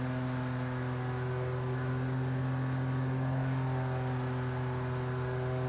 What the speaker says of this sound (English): the motor makes a different noise and the front end dives a little bit on my boat